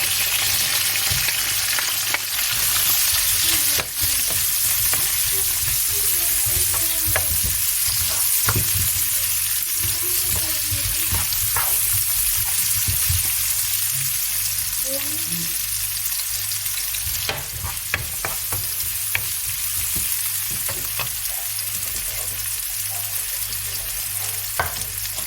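Onions sizzle steadily in a hot pan while being stirred, a continuous close frying hiss with occasional utensil scrapes and no talking, as part of preparing chicken breast with mushrooms.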